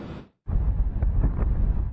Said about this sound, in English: Mike and Shannon, it's been extremely windy here at Easton's Beach in Newport